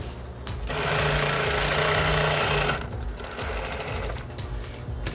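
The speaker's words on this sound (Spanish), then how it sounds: "Ahora pespuntamos la costura" A sewing machine runs steadily for about two seconds, topstitching a seam on a fabric bag made from recycled cloth, then stops, leaving quieter handling sounds.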